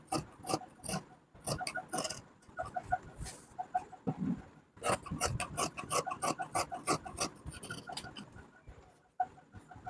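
Scissors snip slowly through trouser fabric along a curved line in a tailoring class, giving repeated short rasping cuts in uneven bursts with brief pauses.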